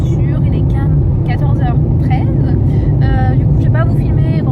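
Steady low road rumble and engine drone fill the cabin of a moving car during a house move, loud and continuous, with voices talking over it throughout.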